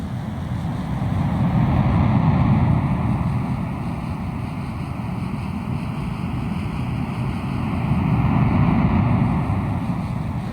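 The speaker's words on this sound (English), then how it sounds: "listen to the sound of natural power in the ocean surf" Ocean surf rolling in continuously, a broad roaring wash of waves that swells and recedes in slow surges, steady and fairly loud with no voices.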